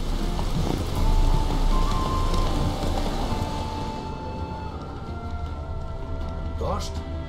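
Rain falling in The Witcher 3, a steady broadband hiss of drops that is loudest early and eases off later, with soft game ambience beneath and a brief sharper sound near the end.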